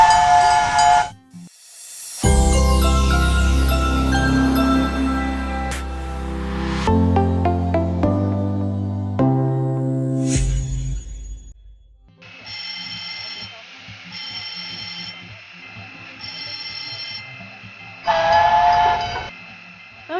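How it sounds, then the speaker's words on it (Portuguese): The Maria Fumaça steam locomotive in Tubarão, Santa Catarina, sounds its whistle: a long, loud, chord-like blast over hissing steam, then a run of shorter, rhythmic whistle toots and a final strong blast, all close by. "o apito da Maria Fumaça nos transporta no tempo"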